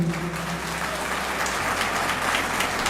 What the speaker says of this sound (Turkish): Mustafa Işık Başkanıma sizlerden güçlü bir alkış rica ediyorum.